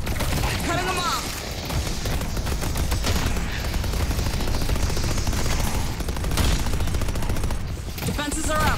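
Rapid automatic gunfire from a turret in the Deadlock video game, with dense rattling bursts that are loud and continuous alongside other combat sounds and a voice talking over them.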